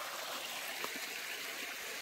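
A stream running outdoors in natural surroundings, a steady broadband rush of flowing water with soft trickling detail, continuous and fairly near with no talk.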